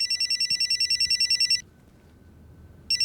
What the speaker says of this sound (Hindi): गुरु का फोन है।